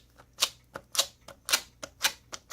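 An old sticker is dabbed repeatedly against glue residue on a video game case, making a run of about eight quiet, close, sticky taps in a steady rhythm.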